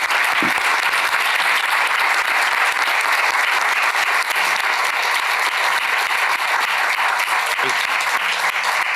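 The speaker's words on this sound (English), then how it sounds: "I'd like to just give them a round of applause." An audience at a conference on access to advanced therapy medicinal products applauds the event organisers, a dense, continuous round of clapping that stays loud and even for the whole stretch.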